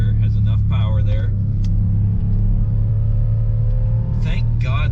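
A 2019 Dodge Durango SRT engine on a track pulls with a loud, steady low rumble under acceleration, heard from inside the cabin while someone talks over it.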